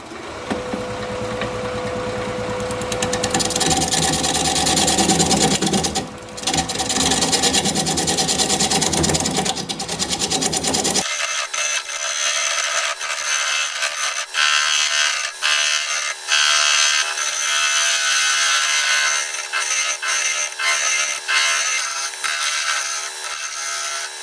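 A wood lathe turning a wooden pedestal at 560 RPM, a loud steady mechanical whir with scraping tool contact throughout, the tone shifting abruptly halfway as the low rumble drops away and rhythmic cutting chatter continues.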